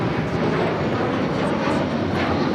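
Passenger airplane arriving on its landing approach at LAX from Morelia, a loud continuous broad engine roar, steady and fairly close, filling the scene without a break.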